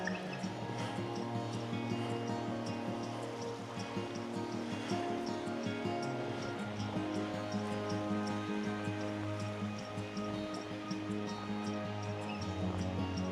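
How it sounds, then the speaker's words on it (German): A natural waterfall in Bergen im Chiemgau splashes and gurgles in a continuous, even rush of water that stays constant from start to finish. "Ja, da hören wir jetzt das Wasser plätschern."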